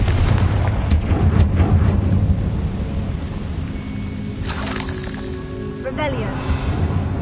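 A Confringo blasting curse in Hogwarts Legacy erupts into a loud, rumbling explosion that booms and roils continuously, with a voice speaking over the blast.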